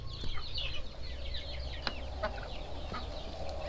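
Chickens cluck and chatter in a pen on a poultry farm, a busy chorus of soft overlapping calls over a low background rumble.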